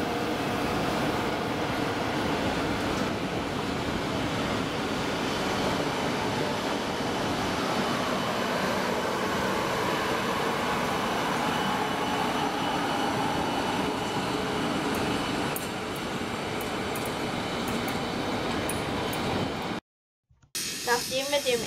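An RE31 regional train departing a Dresden station rumbles and hums steadily for a long stretch, then cuts off abruptly near the end.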